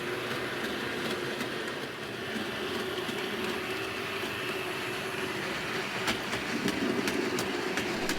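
A Hornby model train rumbles steadily along the track, with a rhythmic clickety-clack of wheels picking up toward the end.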